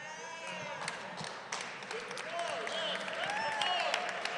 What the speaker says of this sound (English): give our cast, our writer, our director another round of applause